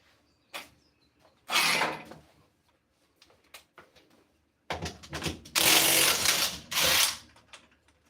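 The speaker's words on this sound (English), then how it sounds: "I'm going to change the hub nut on an almost bad bearing." A ratchet works on a vehicle hub nut with an almost bad bearing, giving a few short bursts of mechanical clicking and whirring separated by quiet pauses, louder toward the end.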